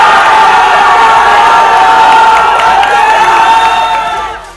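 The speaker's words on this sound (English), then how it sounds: "the cheering from OG fans echoed louder" A large crowd of Valorant esports fans cheers and roars loudly and continuously at a tournament, with shouts and whoops rising over the din before it begins to fade at the end.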